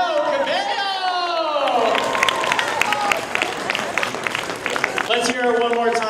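An audience at the Miss South Gate Pageant 2018 claps and cheers for a judge, with crowd noise swelling under a loud voice speaking over it.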